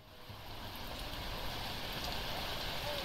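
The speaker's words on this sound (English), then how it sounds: "Okay, it's raining." Steady, dense hiss of rainfall in Plane Mechanic Simulator, a constant wash of noise that gradually swells a little louder and holds, with no voices.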